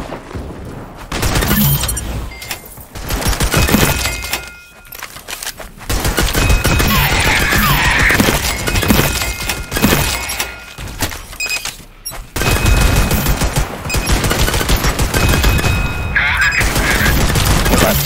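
Rapid gunfire from the online shooter LEAP crackles in dense, overlapping bursts over a busy battle mix, with players talking throughout.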